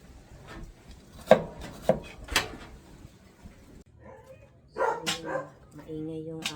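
A dog barks a few sharp times at a home in the morning, with clattering and chopping sounds and someone speaking nearby.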